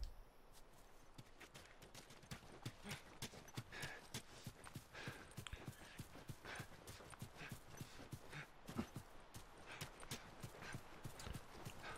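Horse hooves clip-clop steadily in The Last of Us Remastered, a dense run of close, rhythmic hoof strikes on ground lasting throughout with no talk over them.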